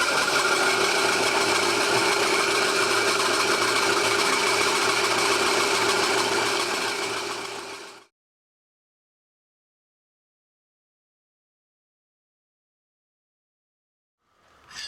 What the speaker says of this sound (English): I decided to come in with my 90-degree head, put a saw blade on there